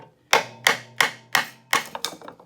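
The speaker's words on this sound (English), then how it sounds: "I took the screwdriver and I just started kind of gently tapping it with my hammer" Six sharp metallic taps of a hammer on a screwdriver, in a steady rhythm, close and fairly loud, with the last few coming quicker and lighter, while separating a pin on a 1981 Chevrolet C-10.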